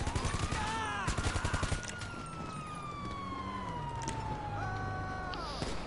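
Rapid bursts of gunfire from a new assault rifle in GTA Online, fired in quick volleys during the first seconds, with a siren wailing throughout and intermittent game noise.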